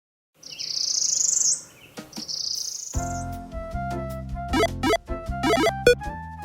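A bird sings two long, high, buzzy phrases, followed by a cluster of sharp, rising chirps and tonal notes mixed with other sounds.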